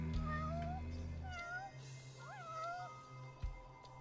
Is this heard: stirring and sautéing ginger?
no